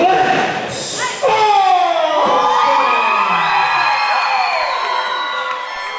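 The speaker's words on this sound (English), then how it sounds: "look at the response from the crowd for Lance Osburn" A wrestling crowd cheers and whoops loudly for Lance Osburn's ring entrance, a sustained roar of shouting voices with high-pitched yells riding on top throughout.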